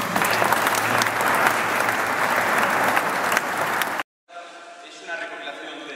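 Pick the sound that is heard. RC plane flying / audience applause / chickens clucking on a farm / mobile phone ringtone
audience applause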